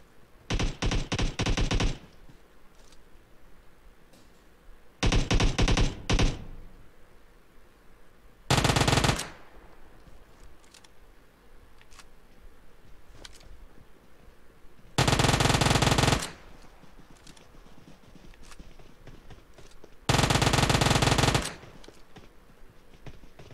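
Bursts of automatic gunfire in the mobile game PUBG Mobile, five loud separate volleys of a second or two each, spaced a few seconds apart over quiet background.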